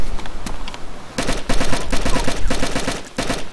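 Bursts of automatic rifle fire in the survival shooter DayZ, rapid loud cracks in quick clusters with short pauses between, close and dominant, one firefight filling the whole stretch without speech.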